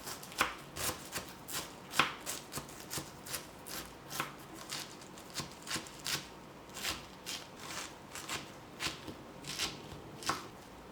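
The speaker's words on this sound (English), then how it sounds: "all we have to do is cut lengthwise, and we get a whole bunch of little tiny cubes" A knife chops an onion into small cubes on a board, producing quiet, rapid crisp taps in an uneven steady rhythm, close and alone.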